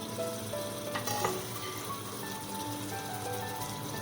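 Tomatoes and other vegetables drop into hot masala in a pan for a Rajasthani brinjal and potato dish, bringing a steady close sizzle and frying hiss with a few brief clinks of stirring.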